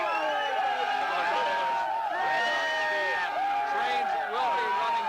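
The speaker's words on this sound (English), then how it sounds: "This is some of the crowd that is heading back from Times Square." Crowd of New Year's revelers heading back from Times Square through Penn Station during the millennium celebration, a dense babble of many voices with whoops and cheers, steady and close.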